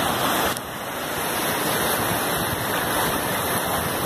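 Continuous broadband wash of ocean surf at Praia Grande beach in São Paulo, loud and close, as if heard from in the water, with a faint high whine running through and no talk.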